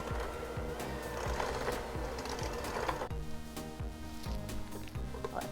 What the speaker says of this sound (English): So I'm going to beat these until it's like a creamy texture.